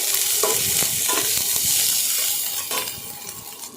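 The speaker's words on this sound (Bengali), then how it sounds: "গোটা রসুন, পেঁয়াজ কুচি চাইলা নিতেছি, তেলে ভাজা নিতেছি" Steady oil sizzle with scraping and stirring clicks from a spatula, garlic and onion frying in a pan, close and continuous without talk.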